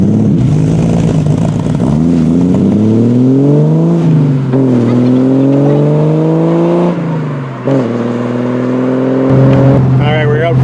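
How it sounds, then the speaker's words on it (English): A 1968 Triumph TR250 sports car engine on its first drive, heard from inside as it pulls through the gears with rising revs, gear-change dips and a steady loud drone, with voices talking over it. "we're out for our first official drive in the TR250"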